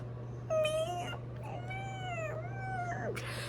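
A pet cat meowing close by, several drawn-out rising and falling meows with short gaps, over a steady low electrical hum and quiet room noise.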